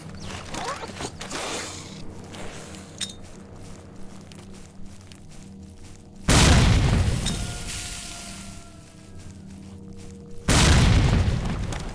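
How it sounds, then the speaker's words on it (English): Two heavy grenade explosions in the S.T.A.L.K.E.R. shooter, each a loud broadband boom with a rumbling tail, the first around midway and the second near the end, with quieter game ambience and small movement noises between them. "Right, that's all the grenades gone."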